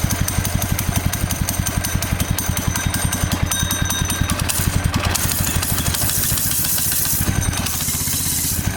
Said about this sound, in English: I'm turning the idle a little higher.